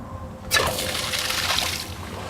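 Water spills and trickles over the top of a 2017 Dultmeier brine maker when the dilute valve fails to open, a sudden splashing rush that starts abruptly and runs steadily, fairly close and loud.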